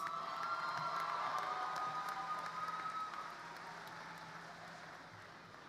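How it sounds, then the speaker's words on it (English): A graduation ceremony audience at a high school greets a student speaker with applause and cheering, a crowd roar with whoops that is loudest at first and then gradually fades, with a faint tonal hum underneath. "Let's greet her with an applause."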